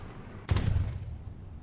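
Bombs dropped on a tank in War Thunder land as a single sudden low boom with a rumbling tail that decays over about a second, heard faintly and alone.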